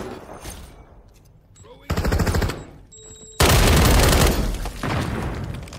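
Rapid automatic gunfire in a Call of Duty Modern Warfare III multiplayer match, loud sustained bursts separated by short pauses, with a voice speaking over parts of it.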